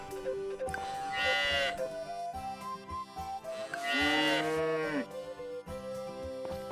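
A cow in the farming video game Story of Seasons: Friends of Mineral Town lets out two long, clear moos a few seconds apart over a soft, steady game background.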